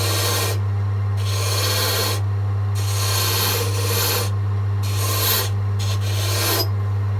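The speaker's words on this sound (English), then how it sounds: "So just bring the V chisel in a tiny bit." A V chisel cuts grooves into a wooden gardener's dibber spinning on a lathe during spindle turning, giving repeated rasping, scraping bursts over a steady low motor hum, close and loud with no talking.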